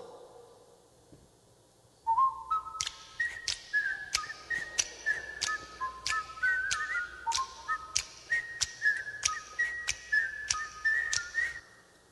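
A clear whistled melody of short, bright notes hopping between pitches in a lively rhythm, played alone after a quiet start.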